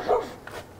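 A dog gives a single short bark, fairly close and moderately loud, followed by a faint trailing whine or yip in an otherwise quiet setting.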